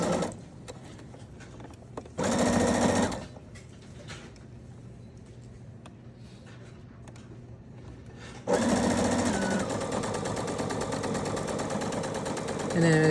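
Sewing machine stitching a seam on women's pajama pants, a steady mechanical whir in two bursts, the second longer and louder, with a quiet lull of soft handling noise between them.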